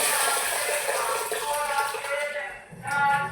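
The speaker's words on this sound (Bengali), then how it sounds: "চলো চালটা ভিজিয়ে রেখে দিই।" Water is poured over rice in a bowl to soak it, a continuous splashing pour that thins out briefly near the end before a short final gush.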